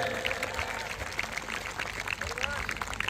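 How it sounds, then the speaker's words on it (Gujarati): A crowd applauds at an outdoor tribal community gathering marking the birth anniversary of Jaipal Singh Munda in Valod, with steady dense clapping throughout and voices mixed in. "લોકો માટે જોરદાર તાળીઓનો ગડગડાટ થઈ જાય"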